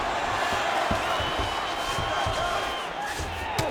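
Arena crowd noise from the UFC 5 fighting game, a steady dense murmur with scattered thuds and cheers during a Georges St-Pierre versus Charles Oliveira ground exchange, loud and continuous throughout.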